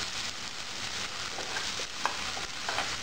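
Capsicum and tomato being stirred in a pan for chutney with salt, a steady soft sizzle running throughout with a few faint spoon scrapes, alone and fairly quiet.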